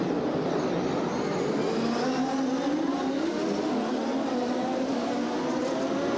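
IndyCar race cars at the 1993 Australian Grand Prix street circuit in Surfers Paradise accelerating off the start, a loud continuous roar of many engines with rising and shifting pitch, no talk over it.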